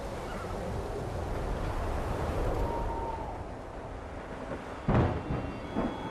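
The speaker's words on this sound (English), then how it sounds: "Storm is passing." Broad, steady rumble of a passing thunderstorm in the video game Kingdom Come Deliverance 2, with rain and wind filling the whole span and a brief louder crack near the end, no talking.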